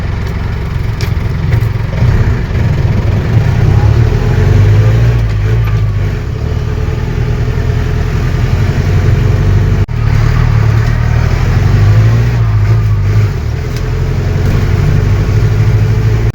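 A Mahindra 4x4 jeep drives in four-wheel drive with a close, steady low engine drone and rumble that continues throughout with slight fluctuations.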